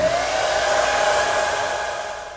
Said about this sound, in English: get your blow dryer. And you're going to blow dry that edge dry